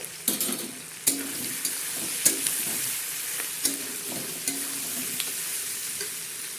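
A spoon stirs turmeric, chili and sambar dal spice mix into fried vegetables in a hot pan, giving a steady sizzle broken by about a dozen sharp scraping clinks against the metal.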